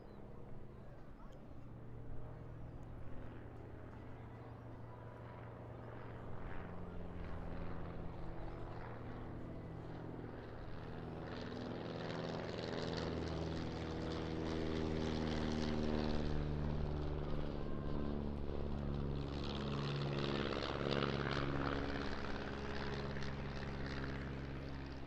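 Propeller aerobatic display aircraft rolling and arcing wing-over at the Eastbourne International Airshow, a steady droning engine with a strong harmonic buzz that swells louder midway and holds, with commentary talk over it.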